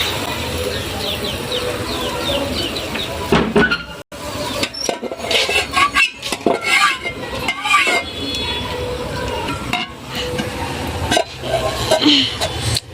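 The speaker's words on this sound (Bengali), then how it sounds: "ভেজে নেওয়া ফুলকপি দেওয়া হচ্ছে।" Fried cauliflower pieces tipped into a pan and stirred, giving scraping and clinking spatula strokes over a steady sizzle, with a rooster or birds calling faintly in the background.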